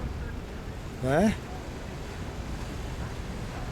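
Waves and wind at the Whitby harbour entrance on the Yorkshire coast, a steady low rushing wash of sea and breeze heard throughout, briefly interrupted by a single short spoken word partway through.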